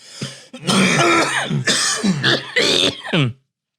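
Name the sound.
cough and throat clearing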